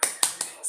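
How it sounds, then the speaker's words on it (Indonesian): Tepuk semangat clapping chant from an elementary class lesson, three crisp claps close to the mic in a quick even rhythm, then the start of a fourth, with no voice over them. "Yuk kita akhiri dengan tepuk semangat lagi, tepuk semangat."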